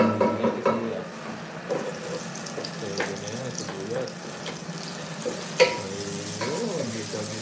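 Onion sizzling with garlic in a hot pan, a steady frying hiss with occasional scraping stirs and clinks of a utensil, close and moderately loud with no talk.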